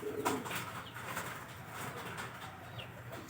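Domestic pigeons in a loft, including a white one, coo softly and repeatedly nearby, with occasional wing flutters and light rustling against a busy background.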